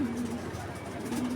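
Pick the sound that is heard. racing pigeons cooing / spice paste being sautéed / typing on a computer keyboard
racing pigeons cooing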